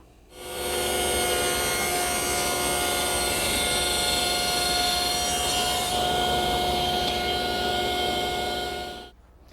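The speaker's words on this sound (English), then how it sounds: "Now that's the first of 2 cuts for a wide rabbet where the backing plywood will go." A saw cuts the first pass of a wide rabbet in wood for a jewelry case, a loud, continuous whining cut that starts abruptly, holds steady for about nine seconds and then stops, with no speech.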